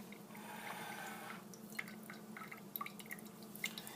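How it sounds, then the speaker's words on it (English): Pour-over coffee dripping through the grounds in a kitchen, a steady soft flow with faint, scattered drips and small liquid ticks, close and quiet, with no talking. "this is a drip that I consider a good drip. It doesn't flow too fast and it doesn't flow too slow."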